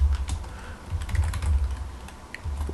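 Quick, uneven clacks of keys being typed on a Commodore 64 keyboard, close and fairly loud, a steady run of presses with brief pauses.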